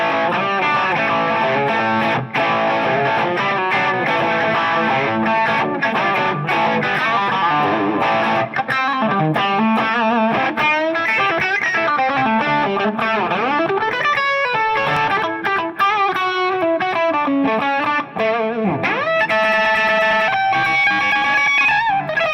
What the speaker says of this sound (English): If I boost it with the spark, then we get this kind of like a bit gritty blues tone